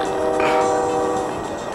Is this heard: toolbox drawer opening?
no